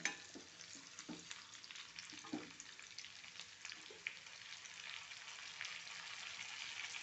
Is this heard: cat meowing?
no